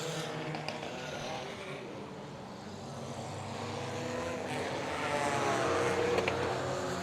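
Race car engine at the Willow Springs enduro sputters and drones unevenly at a distance, a rough, irregular, misfiring hum that swells louder toward the end, with no voices.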